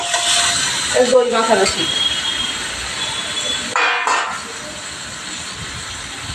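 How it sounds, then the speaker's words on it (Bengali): Mutton marinated in yogurt hits a hot pan with onions, giving a broad hiss and sizzle that carries through the clip, with clinks of a utensil early on and someone speaking over it. "আমি মাংসটা ঢেলে দিই।"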